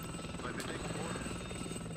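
Helicopters attack during a WARNO real-time strategy battle, their steady rotor and engine drone filling the short stretch as a continuous dense wash.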